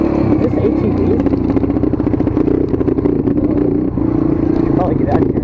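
Dirt bike engine bogging down at a construction site, loud and close, with a sputtering, labouring mid-pitched drone and rattly clatter that never clears into a rev; a voice talks over it.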